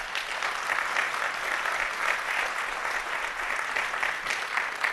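Conference audience applauding panelists, a steady wash of many hands clapping at even intensity throughout, heard from within the hall.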